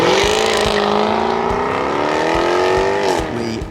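A Jaguar Project 7 sports car on a test drive at Pebble Beach, its loud engine note rising steadily as it accelerates, then easing off near the end, with no talk over it.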